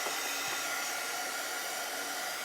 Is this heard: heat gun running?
yes